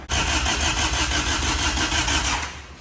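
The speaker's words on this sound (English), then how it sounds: "Jamie should be starting in just a few" A hot rod engine cranks and fires, then settles into a loud, close, steady rumble with a rapid pulsing beat that runs without a break before easing off at the end.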